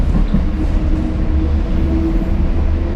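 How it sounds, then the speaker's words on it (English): Trains at a train yard, heard from aboard a moving trolley, make a loud, steady low rumble and rattle that fills the whole short stretch without talk. "that's the train yard."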